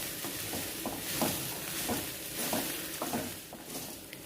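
Puffed rice tossed and mixed in a kadai, with rhythmic scraping and rustling strokes and a light sizzle, heard up close with no talking.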